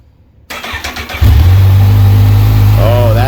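A 2012 Kawasaki Z1000 streetfighter with a Leo Vince exhaust barks to life and settles into a loud, deep, steady idle with a slight rise in revs near the end, heard up close.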